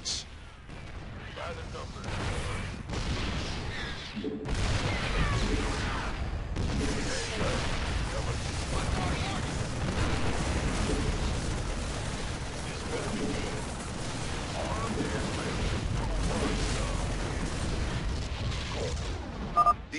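Siege tanks in StarCraft 2 shell enemy cannons with artillery, giving a continuous, loud rumble of booming shots and blasts in a dense battle mix, with a brief voice line near the start.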